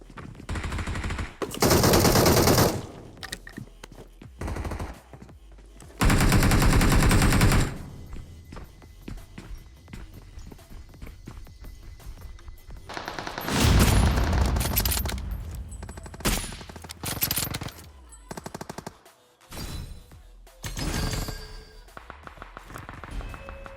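Automatic weapon fire in PUBG Mobile, a video game, rips out in several long, loud bursts, each lasting about one to two seconds. Quieter clicks, movement noise and scattered shorter shots fill the gaps between bursts.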